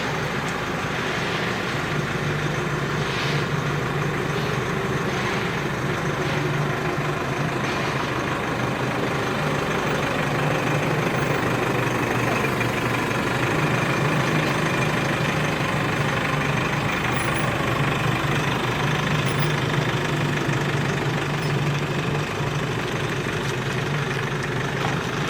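A Nissan NP300 Navara pickup's diesel engine idles steadily, a constant low rumble with a dense, even drone that holds unchanged for the whole stretch, close and loud, with no one talking.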